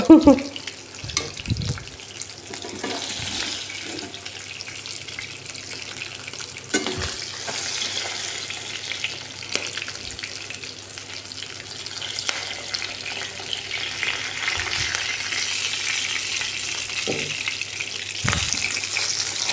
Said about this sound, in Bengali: এখন পেঁয়াজটা ভাজা